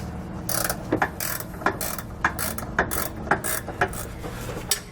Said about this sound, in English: we're going to tighten up each one of these bolts